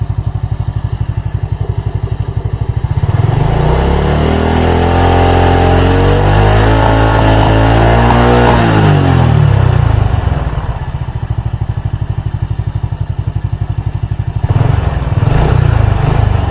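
A Honda Supra motorcycle engine, fouling its spark plugs black, runs close and loud, rising from idle into a sustained high rev, dropping back and then revving again near the end.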